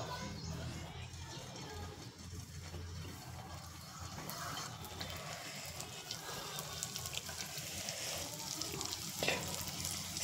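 Modak fry in a kadhai over a low flame, giving a soft continuous crackling sizzle, close and quiet, with someone talking at times.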